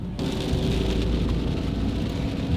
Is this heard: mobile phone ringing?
no